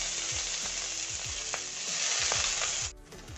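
Lablab beans and cumin hit a spoonful of hot oil in a kadhai with a loud, steady sizzle. Stirring scrapes recur throughout, and the frying noise drops sharply just before the end.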